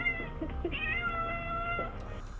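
A cat meows a few times indoors, quiet and fairly close, the calls running together over a short stretch.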